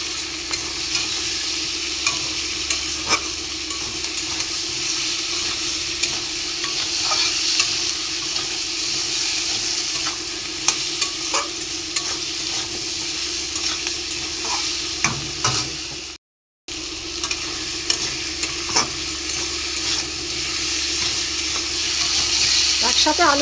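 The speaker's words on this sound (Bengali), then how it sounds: "বেগুন দিয়ে দেবো। একটু ভালো করে ভেজে নেবো।" Long brinjal and potato strips fry together with salt and turmeric, giving a steady close sizzle broken by repeated scraping and stirring in the pan, with no talking.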